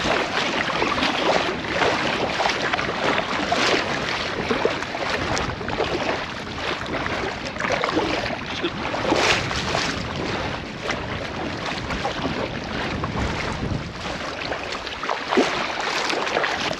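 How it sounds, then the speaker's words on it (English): A strong headwind blows across a lake in Glaskogen during a packrafting trip, a constant loud rushing buffet of wind noise with surging gusts and no talking, lasting throughout. "It's not that we've got miles to go, but it's definitely a headwind."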